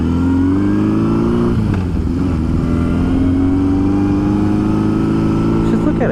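A barn-find Honda CB750 motorcycle rides along, its engine a loud continuous drone that shifts pitch as it changes speed, with wind noise throughout.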